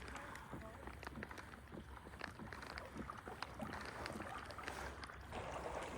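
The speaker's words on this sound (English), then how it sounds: "Got about a mile paddle. There's fog out here, so it's really weird paddling into the fog" A kayak is paddled through fog toward public hunting land, with soft repeated splashes and watery swishes close by under a constant wind rush, faint and continuous throughout.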